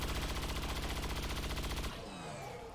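A rapid automatic burst of gunfire from the tactical game XCOM 2: War of the Chosen, evenly spaced loud shots hammering for about two seconds, then cutting off into a fading echoing tail.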